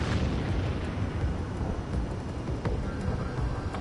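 A missile explosion in the Ace Combat 7: Skies Unknown flight game, heard as a loud, steady, broadband roar that fills the whole stretch with no clear gaps or distinct bursts.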